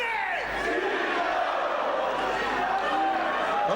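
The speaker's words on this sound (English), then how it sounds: "D'Lo very happy with the response from the crowd there" Wrestling crowd roars and chants in response to D'Lo Brown, a loud, dense, continuous arena din with voices swelling throughout.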